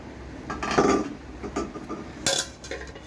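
Plates, mugs and cutlery clink and clatter at a family picnic meal with rice and shrimp dried-fish bhorta, a few sharp knocks standing out, the loudest bunched near the start and another toward the end, with no voices.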